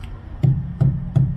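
A punctured truck tire is knocked three times in a steady rhythm, each a dull, low, hollow thump, close and clear over faint background noise.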